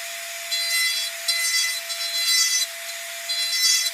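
A knife carves a small 45-degree chamfer into wood for a Christmas cardinal figure, heard as several short, raspy scraping strokes close by, each lasting about a second, with no talking.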